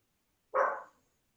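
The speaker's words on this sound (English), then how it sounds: "You might hear a dog bark in the background every once in a while" A single short dog bark sounds once at a distance in the background, brief and fairly faint, with silence on either side.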